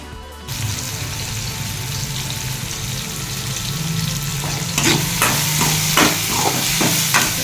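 Tomatoes sautéing in a home kitchen pan give a steady close sizzle, with sharper clinks and scrapes of stirring joining in the last few seconds.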